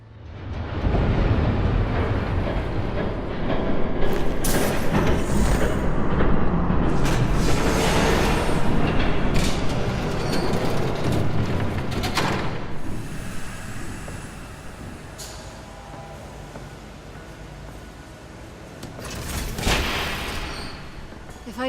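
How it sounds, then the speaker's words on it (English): A train rumbles past in Telltale's Batman, a continuous loud, broadband roar that holds steady for about twenty seconds with brief rattling swells, never pausing. "There's a train coming."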